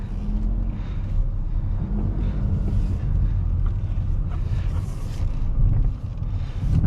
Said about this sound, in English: the motor's a little noisy